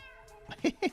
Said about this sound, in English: Yes, that's our kitty cat.